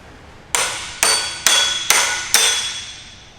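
A hammer drives ARP studs into a drift car's rear subframe, giving five sharp, loud metallic strikes spaced about half a second apart, each ringing briefly before the next blow.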